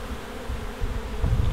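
Bees buzz in a dense, continuous drone during a rescue of bees from a trailer, the sound close and steady throughout the brief moment.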